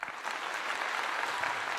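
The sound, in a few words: clapping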